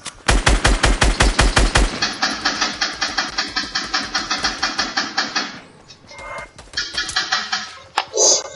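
Minigun fire in a video game: rapid bursts of sustained automatic shots, loud and close, then a pause and more short bursts with a thump near the end.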